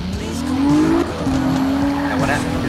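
A car in Need for Speed Rivals brakes hard with loud, sustained tire squeals over a roaring engine, the screech rising and holding for several seconds.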